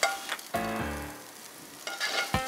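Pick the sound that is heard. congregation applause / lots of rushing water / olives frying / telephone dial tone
olives frying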